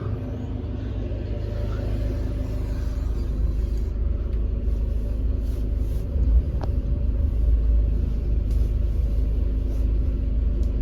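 Sailing yacht's engine running in reverse while backing away from a pier, a steady low continuous rumble throughout with faint intermittent higher noises over it.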